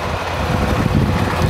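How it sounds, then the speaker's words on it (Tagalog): Strong, cold wind blows into the microphone outdoors beside a slippery road, making a steady, loud, rumbling roar with gusty swells and no speech. "Sigurado malamig yan dahil malakas ang hangin."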